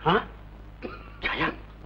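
A man in a dramatic Telugu film scene coughs twice, close and clear, with a short throaty rasp and a pause between the two coughs.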